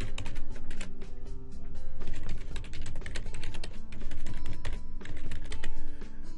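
Rapid typing on a computer keyboard while entering webmail login credentials, a dense, steady stream of close, crisp key clicks with no speech.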